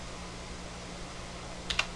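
Two quick keystrokes on a computer keyboard near the end, crisp and close, while typing an asterisk for multiplication into Maplesoft math software; steady low hum and no voices beforehand.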